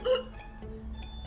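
A single short hiccup at the start, close and clear, followed by a quiet background hum.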